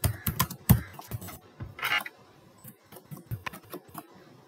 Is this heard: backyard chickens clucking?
no